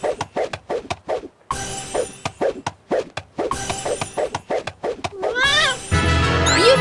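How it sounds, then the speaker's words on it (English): A cartoon cat in the My Little Pony Harmony Quest video game gives a rapid series of short, loud meows and yowls, mixed with yips and game sound effects, ending in a rising musical sting. "Crazy cat alert."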